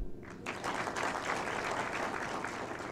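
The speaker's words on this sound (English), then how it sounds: "And we must clap for them." Applause from an audience at a foundation launch event in Kenya, dense continuous clapping that swells in after a brief quiet start and stays loud throughout.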